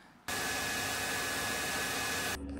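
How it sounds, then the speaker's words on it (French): A hair dryer switches on abruptly and blows steadily on a frozen supply pipe, a loud, even rushing whir with a faint motor tone, then cuts off after about two seconds, with no talk. "avec notre sèche-cheveux, on a dégelé ce tuyau"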